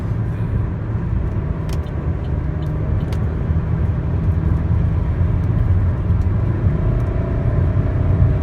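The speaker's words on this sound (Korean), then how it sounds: "차가 나가는 걸 보면요, 와, 정말 기가 막히게 달려줍니다" Inside a 2014 Chevrolet Malibu 2.0 LT diesel while driving, a steady low engine and road rumble continues throughout, moderately loud and even, with faint ticks and no talking.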